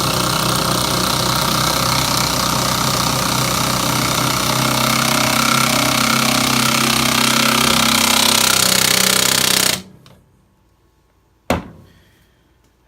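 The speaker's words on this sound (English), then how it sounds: "we're going to drive the 5/16 4-inch lag screw. This is galvanized." A Ryobi Quiet Strike pulse driver drives a galvanized 5/16 by 4-inch lag screw with a loud, steady whirring hammer for about ten seconds, then stops abruptly, followed by silence and one brief, sharp knock.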